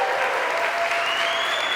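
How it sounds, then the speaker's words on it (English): Audience applause for honorees at a women's achievement celebration, a small live gathering clapping in a steady, even burst throughout. "So let's cheer them on."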